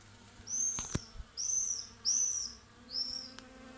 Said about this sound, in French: je crois qu'il y a toutes les abeilles du quartier.